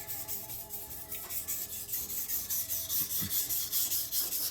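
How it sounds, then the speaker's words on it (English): A Misono Swedish steel gyuto knife is drawn across a whetstone, making a steady rhythmic scraping of repeated close strokes, loud and even, with no voices. "I sharpen the left side of the knife at about a 12 degree angle"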